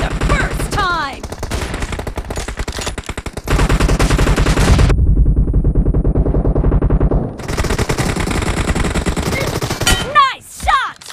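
Gunfire in a team-match shooter video game: long rapid machine-gun bursts, loud and close, broken by a brief lull, with short game voice callouts heard in between.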